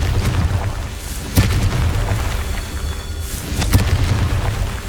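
Confringo blasting spells detonating in Hogwarts Legacy on PS5: two loud, deep booming explosions a couple of seconds apart over a steady rumbling game background.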